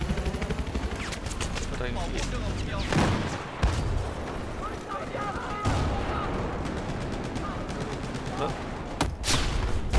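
Battlefield 4 combat on a German-language rush map: sustained automatic gunfire and scattered heavy booms fill the scene, with sharp individual bursts punching through while a player speaks briefly over the din.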